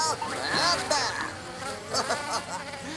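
A cartoon bee from Robocar Poli buzzes continuously and close by, its droning whine wavering in pitch over a few seconds.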